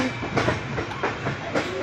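A passenger train departing from Central station rolls along with a steady rumble and repeated clickety-clack of wheels over rail joints, heard from inside the carriage at moderate loudness with no talk.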